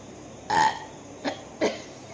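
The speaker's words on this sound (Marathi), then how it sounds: "मला ढेकर बी यायला लागली" Three burps close up: a long, loud belch followed by two shorter ones in quick succession, with no talking.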